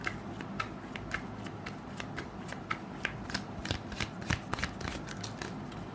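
Tarot cards shuffled and drawn close by in a quiet room, a soft run of rapid riffling flicks and light card snaps repeating steadily across the stretch.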